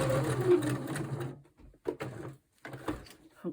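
A sewing machine stitches a fabric pocket for a slow-stitched cover, running in a steady whirring burst up close, then breaking into short stop-start stitching runs with pauses.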